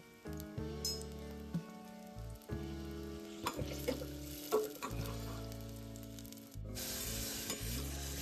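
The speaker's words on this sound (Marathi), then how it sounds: "तेल चांगलं गरम झालं की यामध्ये हा कांदा टाकून घेऊया आपण आणि जरा ब्राऊन होईपर्यंत आपल्याला हा फ्राय करायचा." Onion frying in hot oil, cooked until brown for a Maharashtrian chicken pulao, sizzles steadily in a pan, with several sharp scraping stirs and clinks along the way and one brief quiet gap near the end.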